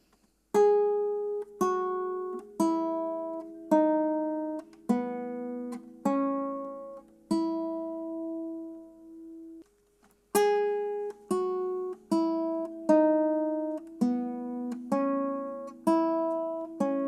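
Acoustic guitar playing the second part of a simple beginner song for kids: single plucked notes in a slow, steady melody with ringing sustain and a short pause midway, close and clear with no talk.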